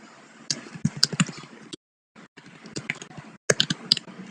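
Java code is typed on a computer keyboard in quick, close bursts of crisp key clicks, broken by a short pause and then resuming.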